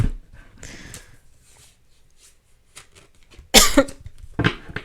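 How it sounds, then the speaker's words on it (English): Two sharp, loud coughs burst out close to the mic after a stretch of near quiet, with a few soft breathy sounds before them. "Sorry for coughing in your ear."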